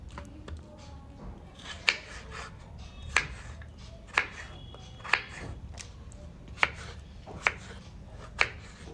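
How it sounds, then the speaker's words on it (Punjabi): Knife chopping potatoes into small pieces for an aloo matar curry, a run of sharp, evenly spaced cuts against a board, fairly close, with quiet kitchen background and no talking. "ਫਿਰ ਆਪਾਂ ਕੱਟਾਂਗੇ ਆਲੂ"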